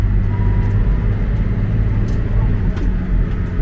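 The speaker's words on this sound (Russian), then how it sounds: "И вот трактор сам начинает переключаться." Valtra tractor accelerating toward its 43 km/h top speed on a muddy road, shifting gears by itself, a loud continuous engine drone with rumbling, heard close from the cab.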